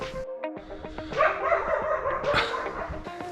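A farm dog at a stone farmhouse in West Cork, Ireland, barks and yips in the evening, several sharp close barks in an uneven run lasting a few seconds.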